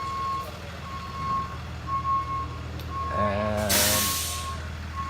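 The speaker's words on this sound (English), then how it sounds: "helping the tow truck driver get in." A tow truck backs up with a regular series of evenly spaced backup beeps, followed by a loud burst of air-brake hiss, all under low engine rumble. A voice speaks briefly.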